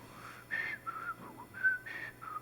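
Person whistles a short, wandering tune of a few sliding notes, soft and close, with brief pauses between phrases and no talking.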